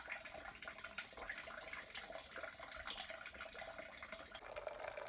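Hot sparge water running steadily for home beer brewing, a continuous faint trickling flow with no pauses, heard alone without speech.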